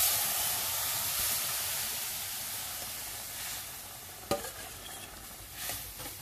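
Hot cooked hemp-leaf (ambadi) bhaji dropped into hot oil, giving a soft hissing sizzle that fades, then a sharp clank and brief stirring scrapes near the end.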